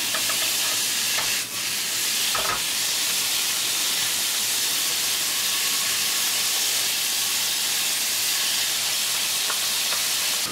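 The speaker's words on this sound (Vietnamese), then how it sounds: "Xào cho lương nó săn lại và thấm các gia vị thơm" Eel stir-frying in a pan with lemongrass and chili, a loud constant sizzle and steamy hiss with a couple of sharp scraping stirs early on, close up and without voices.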